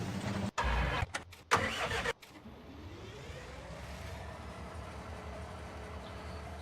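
A train engine in a farming video game running with a steady low rumble and rising pitch after a few loud, choppy bursts at the start, then holding a constant drone alone.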